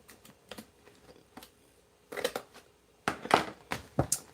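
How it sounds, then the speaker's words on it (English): Cardboard box being cut with a blade in short scratchy strokes up to a crease, quiet ticks at first and then louder crunching slices near the end, with no voices. "I'm going to cut here, just to the crease."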